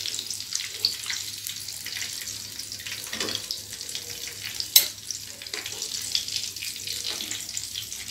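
Chinese wontons frying in a pan of oil give a soft, steady sizzle with occasional light clinks and scrapes of a utensil, fairly quiet and without speech.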